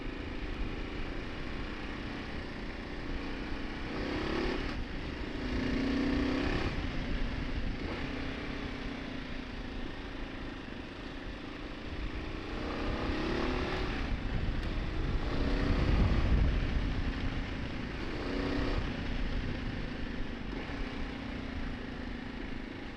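A 2025 Kawasaki KLR650 motorcycle under way on a road, its engine note droning steadily throughout with slight rises and falls as it shifts down, mixed with rushing wind noise and no talk.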